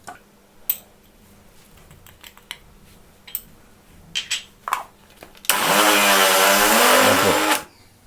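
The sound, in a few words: blender grinding peanut butter with sugar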